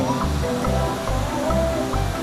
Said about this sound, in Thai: น้ำตกด้วย